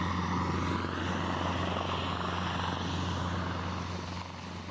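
Military helicopters fly overhead. Rotor and engine noise forms a continuous, fairly loud drone with a steady low throb that fades slightly toward the end, and no voices are heard.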